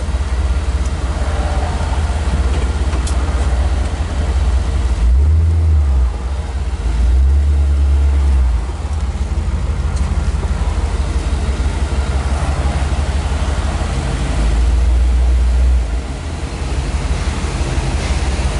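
A 1957 Chevrolet Bel Air convertible resto-mod drives along with a steady, loud engine and road roar, broad wind and rumble throughout, with a few deeper low-end surges as it accelerates; no one speaks.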